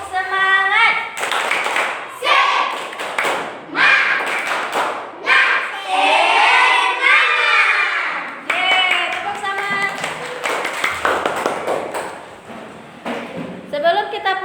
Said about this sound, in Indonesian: marilah kita lakukan tepuk semangat lagi ya, biar lebih semangat